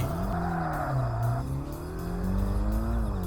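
Engine revving steadily in a drifting car from the video game Tokyo Xtreme Racer Drift 2, with the handbrake pulled through a corner. The engine stays loud and continuous, its pitch sweeping up and down without a break.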